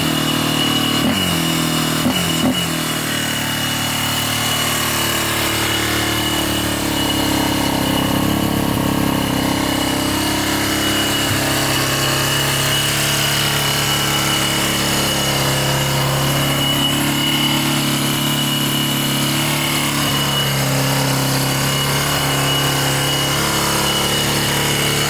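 A Yamaha Warrior 350 ATV engine runs steadily at a fast idle, a loud, continuous buzzing drone with slight rises and falls over about twenty-five seconds and no talking.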